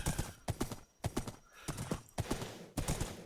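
Clip-clop of a horse's hooves in a video game, with a short whinny, repeating in quick bursts at close range with no talk over them.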